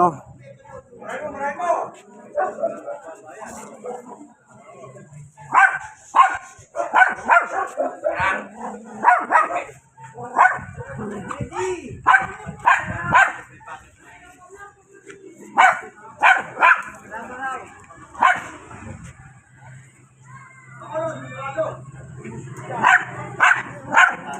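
Two dogs bark and yip repeatedly in short bursts during a walk through a neighbourhood, loud and close, interleaved with a person talking.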